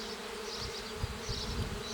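Honeybees buzz steadily around an open hive as brood frames are lifted out during an inspection, a soft continuous drone with faint low bumps of frame handling close by.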